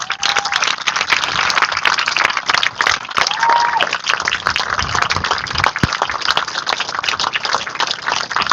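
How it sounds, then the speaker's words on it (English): Sustained audience applause at a Vietnam Veterans Day parade opening ceremony, dense steady clapping from a crowd filling the whole stretch with no pause, a few faint voices mixed in. "Will you please give a round of applause to our featured speaker, Sergeant Major Alan Kellogg"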